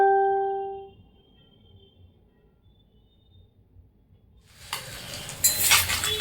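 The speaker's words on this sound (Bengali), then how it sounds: "দেখো আমি একদম ভাজতে দিয়ে দিয়েছি" Small fish frying in a hot wok, starting after a fading ringing tone and a quiet pause, then a sizzle that bursts in and grows louder and crackly toward the end, close and without voices.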